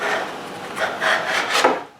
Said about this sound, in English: Before the glue sets, I scrape the excess glue inside the cabinet and leave it to dry.